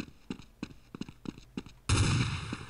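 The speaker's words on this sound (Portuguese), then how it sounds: "Para de tiro do nada." Rapid bursts of gunfire in Counter-Strike 1.6 crack in short volleys, then a louder sustained barrage of shots and explosive noise takes over near the end.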